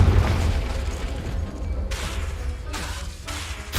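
In the Hogwarts Legacy video game, a Confringo spell bursts with a deep rumbling boom, followed by a few swishing, crackling bursts of debris and magic, moderately loud without speech.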